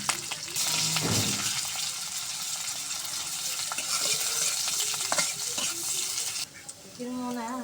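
Chopped onion frying in a pan with cumin seeds, chopped garlic and green chilli, a close steady sizzle with spatula stirring scrapes, then a brief voice near the end.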